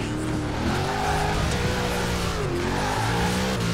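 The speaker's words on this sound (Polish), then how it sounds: "tak oporowo wchodzi w ten drift" Ford Transit van drifting in the racing game Forza Horizon 4, tires squealing continuously over a steady engine drone with shifting pitch, loud and alone.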